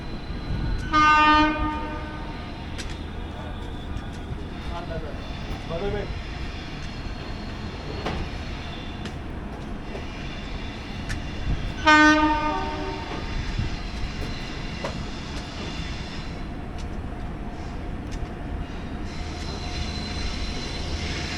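A train rolls in on the opposite track at an Indian railway station, with a steady rumble and two loud horn blasts, one near the start and one about halfway through. No one speaks.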